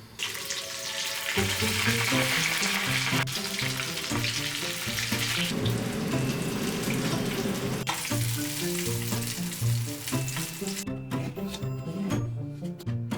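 Shrimp tempura fries with a steady sizzle crackling throughout, loud and close, with a rhythmic beat of music running underneath and no talking.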